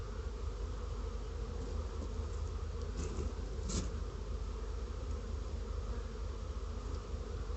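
A dense, steady buzz of many honeybees being shaken from a package into a backyard hive fills the air, close and continuous, with a brief louder burst partway through.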